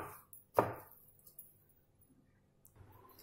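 Sesame seeds pounded in a mortar for sesame balls, one heavy thudding strike followed by a few softer knocks and scraping sounds, close and quiet with no talking.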